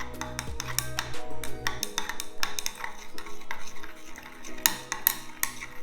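Utensil clinking and scraping against a bowl as a creamy homemade body wash with Coco Betaine surfactant is slowly mixed by hand, with irregular taps and stirring strokes at close range, no voice.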